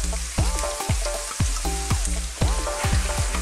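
Bamboo shoot stir-fried in a wok for a Chinese chilli shrimp and vegetable dish, loud close sizzling broken by a steady run of sharp scraping strokes as the spatula tosses the pieces, with no voices.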